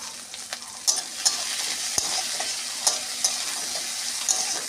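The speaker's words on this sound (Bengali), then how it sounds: "আর পেঁয়াজগুলো ভেজে নেব।" Onions fry in a pan with a steady sizzle and hiss, broken by light scraping clicks from regular stirring, close and continuous, with no talking.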